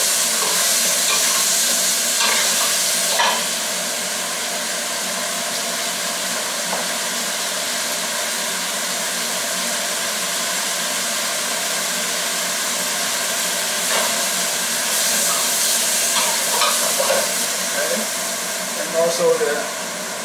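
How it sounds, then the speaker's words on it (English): Beef brisket stirred and fried in a pan for braised brisket with chu hou sauce: a loud, continuous sizzling hiss runs throughout, with occasional scraping and clatter from the stirring, close up and without talk. "Put all the meat into it, the beef, and then we keep on stirring."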